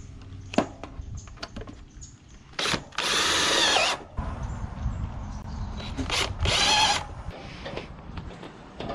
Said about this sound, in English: We screw right up into the gutter.